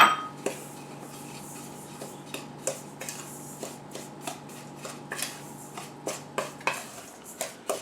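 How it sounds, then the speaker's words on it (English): A spoon stirs apricot pie filling mixed with cinnamon, nutmeg, brown sugar, white sugar and flour in a bowl, producing repeated close scraping and clinking strokes at a steady rhythm with no talking. "stir this around"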